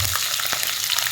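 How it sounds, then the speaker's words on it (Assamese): Chopped onions hit hot mustard oil in a wok, giving a loud, steady sizzle and crackle of frying that continues without a break, with faint stirring clinks. "তেলটো গৰম হৈ গ'ল, কাটি ৰখা পিঁয়াজখিনি দি দিছোঁ।"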